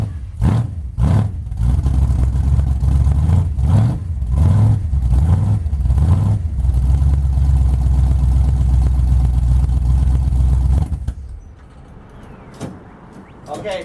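A 1980 Dodge 360 Mopar small block V8 with a freshly rebuilt carburetor cranks in several short bursts, catches and runs loud and close for several seconds before shutting off.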